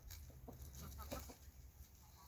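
Chickens cluck softly in a small coop, a scattered run of low, faint clucks and murmurs against a quiet outdoor background.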